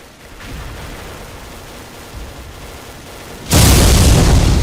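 In the XSHOT shooting game a nuclear gun fires with a sudden loud, broad blast after a few seconds of quieter game noise, and the roar stays sustained to the end.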